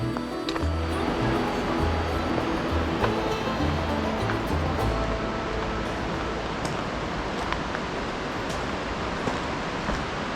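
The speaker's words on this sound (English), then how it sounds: "you can hear Big Creek the whole way up here" Big Creek rushes along beside a gradual uphill trail in the Smoky Mountains, a dense, steady roar of flowing water that fills the whole stretch evenly, with no voices.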